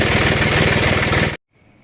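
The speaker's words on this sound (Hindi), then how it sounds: "हम लोग ट्रैक्टर को स्टार्ट करते हैं" A tractor engine runs as a loud, close, rapid rhythmic diesel chug, then cuts off abruptly, leaving near silence with a faint hum.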